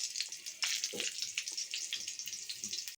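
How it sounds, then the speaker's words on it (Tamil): Sambar onions (small shallots) sizzle steadily in hot cooking oil, a close, continuous crackling hiss with small pops throughout and no talking. "எண்ணெய் காஞ்சது சாம்பார் வெங்காயம் போடலாங்க"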